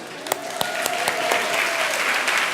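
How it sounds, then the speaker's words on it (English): A seminar audience at a brain-training talk claps for their small groups. Distinct nearby claps ring out over a steady bed of applause, and a voice is faintly audible. "give your group a round of applause"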